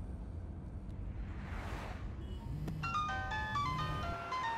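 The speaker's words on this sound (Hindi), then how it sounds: "देखो, उसका फोन बज रहा है" A melodic electronic phone ringtone starts partway through, repeating bright tones over a steady low background rumble.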